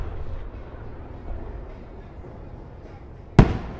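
Outdoor fireworks display heard from close underneath: a low rumbling background broken near the end by one sharp, loud bang with a brief crackling tail.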